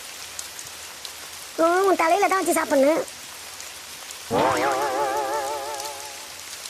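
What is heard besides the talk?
heavy rain pouring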